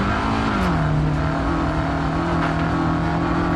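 A Peugeot rally car engine in Dirt 4 drones at high revs, loud and continuous, with pitch shifts as it changes gear, and no talk over it.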